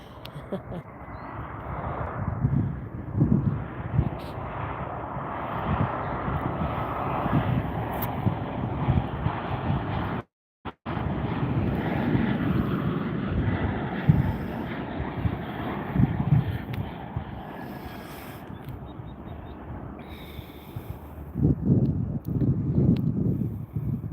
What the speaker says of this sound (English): here's a jet